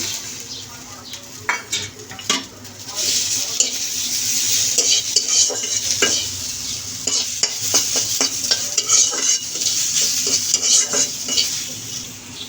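Chopped garlic, onion and chili sizzling in a wok on the stove, a loud continuous fry with repeated metal spatula scrapes and clinks against the pan.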